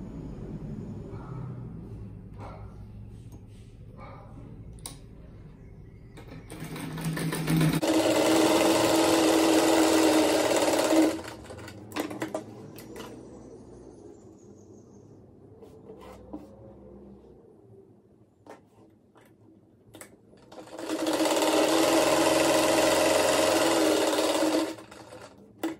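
Electric sewing machine stitching fabric squares together for a rug, two steady buzzing runs of about three to four seconds each, separated by quieter handling of the cloth and faint rustling.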